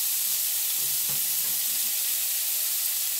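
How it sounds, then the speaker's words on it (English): Chopped Spanish needle greens dropped into a hot oiled pan, giving a continuous bright, hissy sizzle with soft rustles of the leaves settling, close and steady with no talking. "Putting in my Spanish needle."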